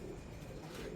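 Pigeons in a home pigeon loft at night give a faint, low, murmuring coo over steady background noise, brief and distant.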